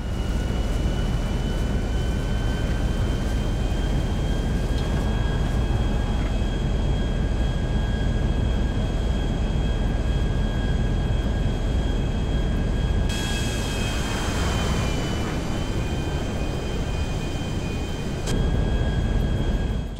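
Aircraft engine drone in GTA V as a plane takes off, a steady loud hum with sustained tonal whine holding throughout, with a brief surge and shift in texture near the end.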